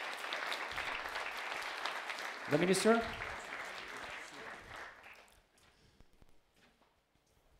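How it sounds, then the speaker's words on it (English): An audience applauds for Lithuania's Minister of Economy, Virginijus Sinkevičius, at a Futurepreneurs launch event, clapping loud and sustained over a brief spoken line, then tapering off and fading to near silence. "give your warm applause to the Minister of Economy, Virginijus Sinkevičius"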